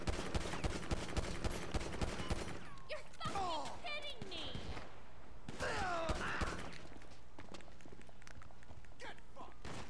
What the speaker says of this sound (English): Make sure you keep shooting though, or else the stars will go away.